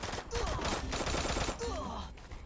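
Rapid gunfire from the Free Fire video game, a dense burst of shots running nearly continuously over a noisy background.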